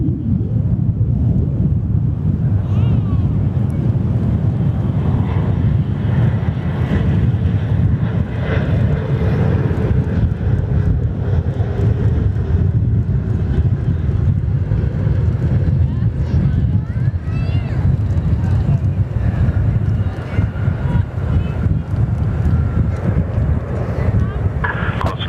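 Jet airliner in Star Alliance special livery at Perth Airport, lining up on runway 03: a steady, loud engine roar held for the whole stretch, with wind buffeting the microphone and spotters talking over it.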